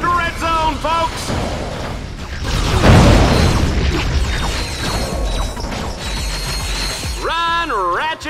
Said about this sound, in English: Oh, the explosion, the gunfire, the carnage!